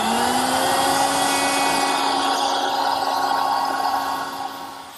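A router spins an ogee bit through a pass along a wooden edge of trim, a loud, sustained high whine with a steady tone that holds evenly, then eases slightly as the cut finishes.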